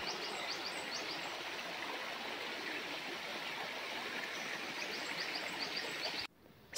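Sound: river babbling through a narrow canyon, Svirskoye gorge

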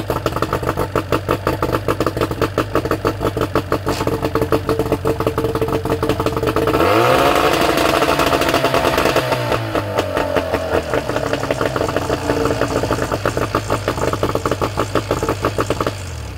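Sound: 1988 Mariner 40 HP outboard boat motor running

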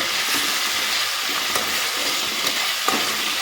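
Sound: spice paste frying in oil for tengra fish curry

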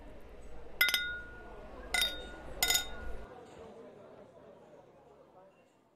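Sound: glasses clinking in a toast

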